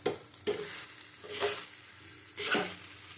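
Pumpkin, potato and pointed gourd curry being stirred and sautéed in a pan, with four bursts of scraping and sizzling at a steady rhythm and a quieter fry between them, close and with no voices.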